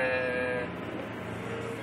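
A 15-month-old toddler imitates a sheep's bleat with a sustained, wavering voiced sound, loud and close, fading slightly toward the end.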